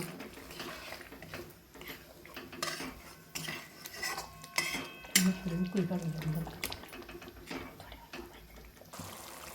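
A metal spoon scrapes and clinks against a cooking pot in short, irregular strokes while stirring masala for black mutton curry, with faint kitchen sounds around it.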